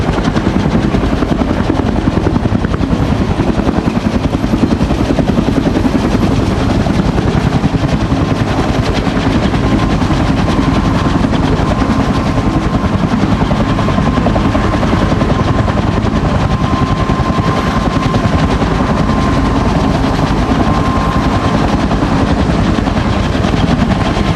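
Helicopter engines and rotors at a Rotorfest air show with KMAX, AH-1W and UH-1H machines, a loud continuous thumping roar with turbine whine filling the whole stretch.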